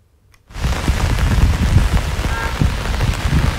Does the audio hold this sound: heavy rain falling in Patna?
yes